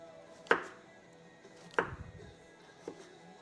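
A knife chopping onions on a cutting board, giving three sharp, separate chops with pauses between them, fairly quiet and close.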